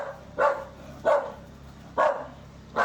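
A dog barks four times at an even pace, each bark short and fairly close, with quiet room noise between them.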